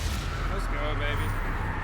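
Confringo and Expelliarmus spell blasts in Hogwarts Legacy form a loud, continuous burst of crackling, explosive impacts, close and dense, with a voice faintly mixed in.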